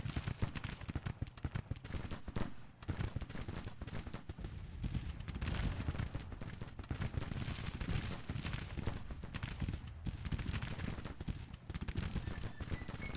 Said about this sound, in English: our red-coated friends here giving some really steady fire